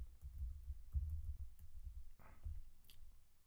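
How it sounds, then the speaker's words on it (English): Typing on a computer keyboard, a run of close, soft key taps in an uneven rhythm with a brief louder clack near the end, no voice over it. "So I'm just going to type in eBusiness Suite"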